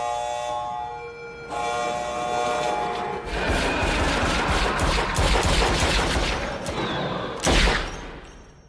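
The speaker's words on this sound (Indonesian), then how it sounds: "lalu mereka akan diuji dengan tes menembak" A rapid barrage of gunfire from a shooting test in the Men in Black film plays loud and dense, following a tonal siren-like wail, with a heavy blast near the end.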